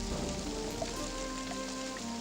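Rain falls in a steady, even patter on surfaces, a dense continuous hiss with faint drop ticks and no talk.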